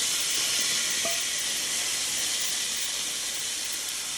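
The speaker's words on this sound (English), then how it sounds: "as you can hear, very hot pans" A steady, loud hiss of very hot pans sizzling while cooking shakshouka fills the clip, broad and continuous with no pauses, close by.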